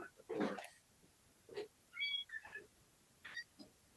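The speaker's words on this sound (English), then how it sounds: "I'm going to let my cat in." A house cat meows at the door asking to be let in, several short separate cries with brief pauses, fairly close and a little soft in a quiet room.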